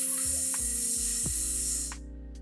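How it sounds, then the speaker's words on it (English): A person exhales in a breathing exercise, producing a loud, steady hiss that lasts about two seconds and then fades, with faint lower-pitched sounds running underneath. "and then exhale, making a steady, loud hissing sound like this."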